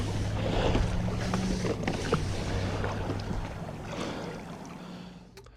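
A rowboat moves across a lake with steady water wash, gentle splashing and occasional creaks of oars and rigging, close and continuous with wind in the background.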